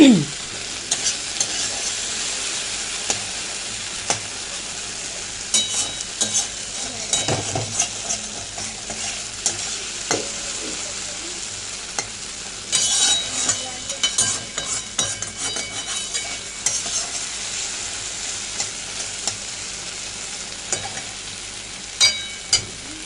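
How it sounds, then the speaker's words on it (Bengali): Okra fries in a pan in a home kitchen, sizzling steadily while a utensil stirs and scrapes it now and then, with occasional light clinks of cookware close by. "ঢেঁড়স ভাজা হচ্ছে, আর একটুখানি হবে, আর একটু হলে নামিয়ে দেবো"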